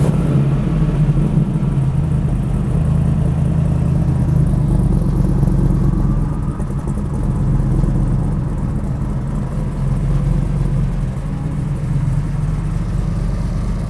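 Inside a 1000hp twin-turbo modernized Trans-Am on a street ride, a low, steady engine rumble drones continuously with mild swells, loud and close, with no talking.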